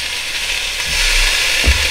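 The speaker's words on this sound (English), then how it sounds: "Should hear a little sear. Oh yeah, more than a little." Cod fillet searing on a hot GoWISE USA air fryer surface, a soft steady sizzle that swells slightly as the fish settles, with a brief low knock near the end.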